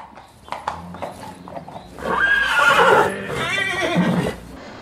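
Horses in a stallion stable, with a few hoof knocks and shuffles at first, then a loud, close, drawn-out neigh and a second whinny, with no talking.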